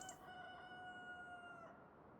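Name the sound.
rooster crowing in video game Farming Simulator 25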